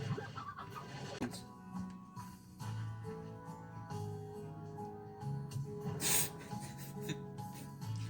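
Chickens in the video game Slime Rancher give soft, scattered clucks over layered game music and effects, with a sharp burst of noise partway through, quiet overall.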